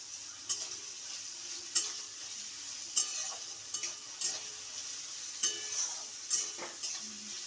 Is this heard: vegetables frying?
yes